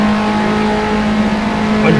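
Race cars lap Vallelunga in a sim racing game, with a loud, steady engine drone holding a strong tonal pitch, cars running close together, and faint tire noise near the end.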